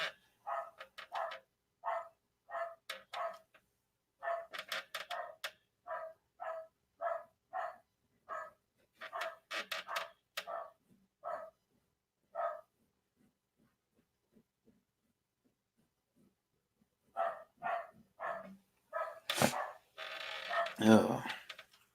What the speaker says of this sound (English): There's Marv barking.